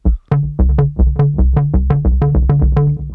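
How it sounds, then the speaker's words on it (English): A punchy synthesizer bass plays a quick, bouncy repeating pattern of short plucked notes, loud and alone. "First sound that we're going to do is the bass,"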